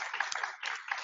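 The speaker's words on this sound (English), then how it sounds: "Let's give you a round of applause." A brief, dense burst of clapping from an audience at an academic conference, applauding the student planning committee.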